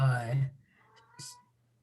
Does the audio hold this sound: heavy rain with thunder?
no